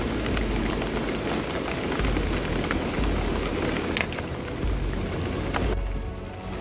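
Steady rain falls at an outdoor construction site, a dense continuous hiss of drops striking surfaces with a low rumble beneath, no talking.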